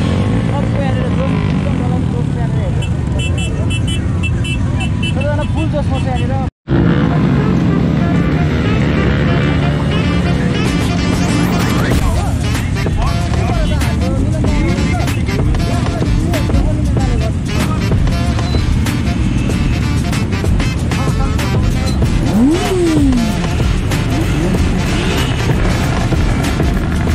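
Motorcycles pulling away together at a Sikkim police rally in 2022, a dense continuous engine roar close by with passing revs and loud wind buffeting, voices mixed faintly underneath.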